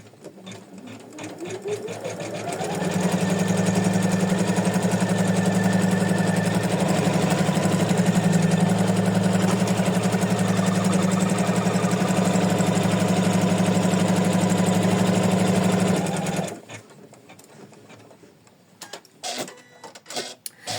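Embroidery machine stitching fabric onto an in-the-hoop white heart: a loud rapid mechanical whir with fast needle chatter that ramps up, runs steadily for about fourteen seconds, then stops into scattered clicks.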